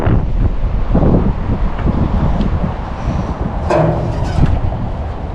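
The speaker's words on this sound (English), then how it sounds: "Didn't I say it's going to be super windy? Yes. Right now we are at 61 km/h" Strong wind gusting at about 61 km/h beside Cooks River while fishing roars steadily into the microphone, a dense, continuous buffeting with no voices.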